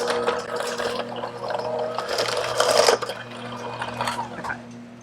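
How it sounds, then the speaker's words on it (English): An electric hand mixer whirs steadily while breaking down butter in a bowl for a strawberry cake, a close motor hum with a louder gritty churning surge partway through. "What I'm gonna do is mix this first with my mixer till it's crumbly"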